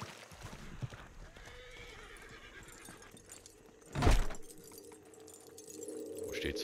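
A horse neighs loudly in one short burst amid faint hoofbeats and a low background hum, in Red Dead Redemption 2 Online.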